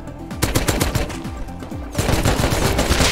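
Loud, rapid automatic gunfire in the survival game Rust, sustained bursts of evenly spaced shots close by, with a second weapon joining halfway for a denser, sharper volley.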